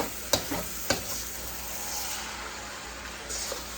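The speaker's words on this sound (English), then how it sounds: "Frying now." Potatoes with cabbage, onions and peppers frying in a pan over raised heat give a steady, faint sizzle, with two sharp stirring clatters near the start and a slight swell near the end.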